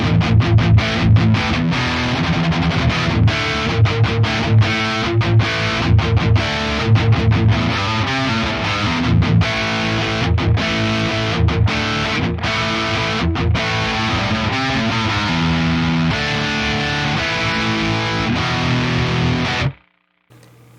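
A distorted electric guitar chugs through rhythmic riffs with a crunchy tone from a modeled Custom Audio Amps C3+ SE preamp on an Axe-Fx III for about twenty seconds, then cuts off abruptly.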